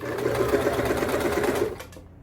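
A sewing machine runs a fast, steady stitch diagonally across elastic-waist shorts, close and loud for about two seconds before stopping abruptly.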